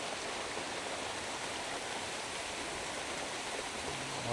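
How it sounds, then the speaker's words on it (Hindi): Water rushing through a dammed channel at a large stone fort in Sindh, a steady soft broadband flow heard from some distance, continuous and unchanging with no talking. "ये यहाँ पे वाटर चैनल है और इन्होंने बंद बांध के इसको"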